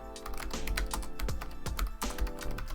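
Someone types a formula into a spreadsheet cell on a computer keyboard, a rapid, continuous clatter of close keystrokes with no talk over it.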